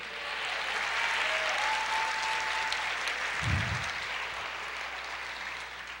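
A church congregation claps for the Lord during a sermon, a sustained wash of many hands applauding evenly throughout, with a faint held tone and a brief low thump partway through.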